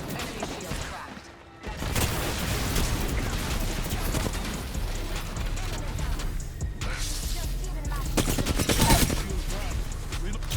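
Continuous video game gunfire, dense automatic bursts and shots filling the mix almost throughout, with game voices calling out over the shooting.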